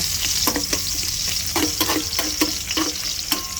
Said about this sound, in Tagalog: Tapos ipa-fry po natin sandali yung beef